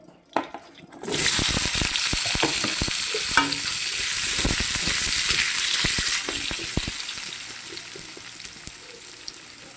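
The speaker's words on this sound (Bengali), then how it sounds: "এই যে তেলের মধ্যে দিয়ে দেবো কেটে রাখা আলুগুলো" Potatoes drop into hot oil with a loud burst of sizzling, then keep frying in a steady hiss while a spoon stirs and scrapes the pan.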